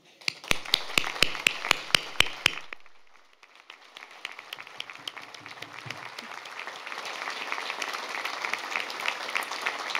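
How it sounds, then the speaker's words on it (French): At an official city reception in Namur during the Wallonia festivities, a crowd applauds police, firefighters, the Red Cross and first-aid teams. A few sharp, evenly spaced claps open it, then a sustained wash of applause builds and continues. "Ils méritent tous nos chaleureux applaudissements."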